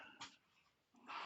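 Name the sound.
new puppy whimpering in background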